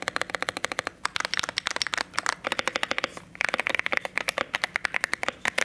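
Rapid typing on a modded Keychron Q1 mechanical keyboard fitted with hand-lubed TKC Kiwi switches, a dense stream of close, crisp clacky keystrokes with brief pauses between bursts.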